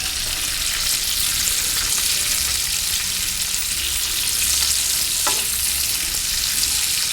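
Prosciutto-wrapped asparagus fries in extra virgin olive oil with a loud, even, close hiss that runs throughout, broken by a single light tap late on; no voices.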